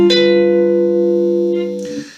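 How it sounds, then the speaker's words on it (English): G dominant 7th chord strummed once on guitar, ringing clear and close, sustaining evenly and fading slightly before a short noise at the very end. "The 5 chord is a 7th chord, so we'll play a G 7th"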